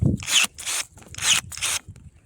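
Raider Pro SPSH 20 electric pruning shears cutting through fresh 2 cm branches, four sharp rasping bursts in a quick uneven rhythm, close and fairly loud with no talk.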